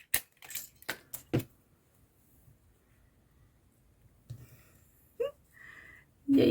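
Scissors cut paper for a trash junk journal in a quick series of sharp snips, then pause through a quiet stretch. A few more scattered crisp cuts and rustles follow later, close and distinct, with no talking.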